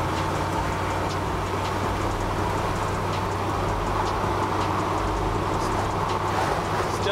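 A military M998 Humvee engine held at full throttle while driving through soft sugar sand, a steady loud droning roar with constant rumble and no pauses.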